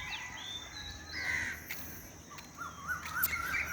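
At dawn in Jaffna, Sri Lanka, crows give harsh, repeated caws, some sharp and close, others farther off, mixed with a few higher bird chirps over a quiet morning background, with no voices.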